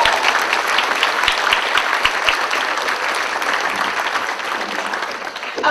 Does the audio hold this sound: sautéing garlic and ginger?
no